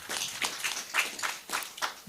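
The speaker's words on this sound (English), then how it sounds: "Please clap for her." An audience at a children's services event claps in irregular bursts, a modest group of hands producing sharp, close slaps in uneven clusters that swell and fade.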